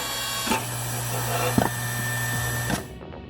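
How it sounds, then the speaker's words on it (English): A Karhu log splitter with a hydraulic saw hums steadily while splitting logs, a continuous mechanical drone broken by a few sharp wooden cracks and knocks before it cuts off at the end. "With its hydraulic saw, logs up to 38 centimeters are split effortlessly"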